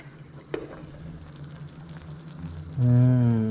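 Okra fries in a pan over medium heat, a soft steady sizzle with a sharp tap from a chopstick stirring early on, then a louder low hum rises near the end.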